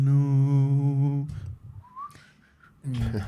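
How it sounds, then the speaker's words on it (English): Melodic whistling in a song played from a recording, a clear sustained tune heard loud and close, dropping away into quieter background sounds before the music returns. "I love the whistling."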